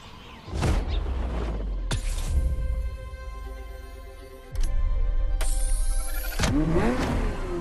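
A Ferrari F50 engine revs loudly and close by in repeated surges, the note rising and falling between bursts with brief drops in between.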